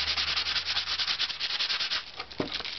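Dutch rush horsetail is rubbed back and forth across the wooden inside of a violin top plate, a quick rhythmic series of close, scratchy abrasive strokes with no talk.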